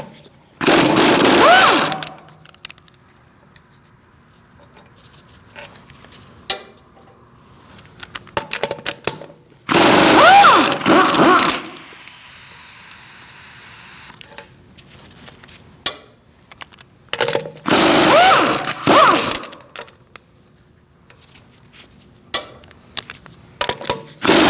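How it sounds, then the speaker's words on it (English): An impact tool on a 17mm socket removes the rear wheel bolts of a Mercedes-Benz C300 in three loud whirring bursts, each about two seconds long, separated by quieter clinks and handling noises. "Using a 17mm socket, we're going to remove our wheel."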